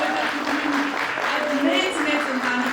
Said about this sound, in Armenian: եկեք ծափահարենք Ֆորտիսիմոյին